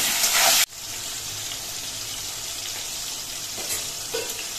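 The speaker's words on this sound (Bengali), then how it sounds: "এবার বেগুনগুলো ভেজে নিচ্ছি।" Eggplant pieces frying in oil with a little salt, a steady close sizzle that holds evenly throughout after a brief louder burst at the start, with a few faint scraping touches and no voices.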